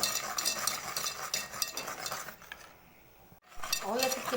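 A hand whisk beats eggs with sugar, oil and vanilla in a bowl, a close, quiet, rapid clatter that drops away briefly before resuming.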